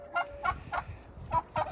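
Turkeys in a coop give a run of five quick, nearby gobbling bursts, choppy and uneven in spacing, with no one talking.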